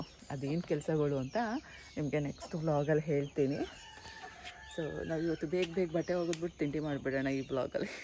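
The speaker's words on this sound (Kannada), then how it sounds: "ಬರೀ ಕೋಳಿ ಶಬ್ದನೇ." Chickens and roosters cluck and crow repeatedly around a home, their calls coming in bursts close by while someone talks over them.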